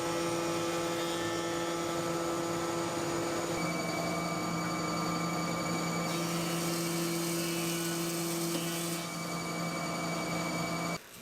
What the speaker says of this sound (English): I will just slowly adjust the planer until I get them down to where I need them